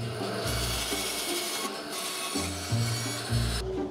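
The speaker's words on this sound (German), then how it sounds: "mein Splintholz säge ich natürlich zu Feuerholz" A saw cuts sapwood into firewood in a workshop, giving rhythmic rasping, grinding strokes with repeated pulses and pauses, close and fairly loud with no talk.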